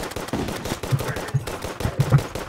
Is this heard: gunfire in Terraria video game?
yes